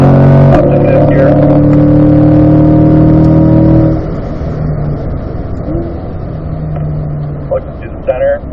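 A car on a race track pulls up through the gears to fifth: a loud engine note climbs steadily, drops sharply at a shift, then keeps droning close and strong under the cabin's rumble.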